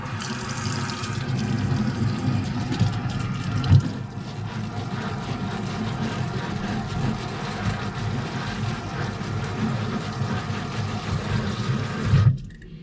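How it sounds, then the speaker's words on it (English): Water pours steadily through coir growing medium in a tray for micro-greens, a continuous close splashing trickle that cuts off near the end, with no talking. "The goal is always to have water run directly, just straight through it and not bunch up on top."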